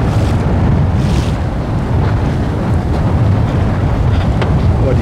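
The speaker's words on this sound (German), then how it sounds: "Zwischendurch kommen dann wieder Böen" Strong wind gusts of about 22 knots buffet the microphone on a sailboat in a loud, continuous roar, with rushing air and water noise and no voices.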